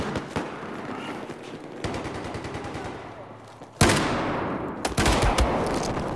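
Automatic gunfire in the Battlefield 4 video game rattles in dense bursts, with louder, closer volleys cutting in near the end; faint speech sits underneath.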